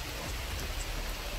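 Steady heavy rain falls as a dense, continuous hiss of drops on surfaces, loud and close, with no voices.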